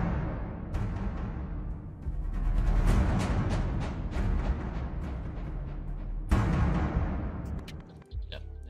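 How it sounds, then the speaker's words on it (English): Programmed drum beat from a typical 1K kit, drenched in delay and reverb: steady, repeating hits with echoing tails running continuously, a heavy accent hitting near the end before a short drop. "All right, and then from there I added these drums."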